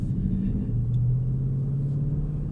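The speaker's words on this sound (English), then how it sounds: "I'm going to make sure you get lots of the V8 sound on this video today" Deep, steady V8 engine rumble from a Ford Mustang 5.0 GT Fastback close by, with a low throbbing tone that shifts slightly in pitch as it idles.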